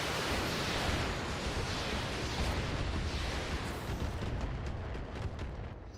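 Inferno missile shots launch in the BattleTech video game, making a dense, loud roar of blasts and rushing fire that continues for several seconds before easing off slightly, no talking.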